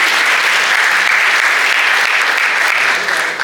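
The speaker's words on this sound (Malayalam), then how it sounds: "നല്ലൊരു കൈയടി." An audience at a Malayalam film event claps loudly in sustained, even applause welcoming the director of Malikappuram on stage, dense and close for several seconds before tapering slightly.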